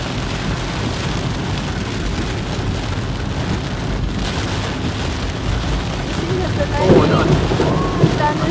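A heavy tropical downpour hisses steadily in a thunderstorm, with low rumbles of thunder beneath and a brief murmur of voices near the end.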